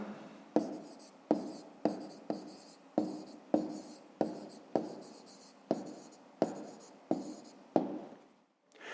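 A pen writes out a math inequality by hand in a regular series of about a dozen short scratchy strokes, each a sharp tap fading into a brief scrape, close and clear with no talking.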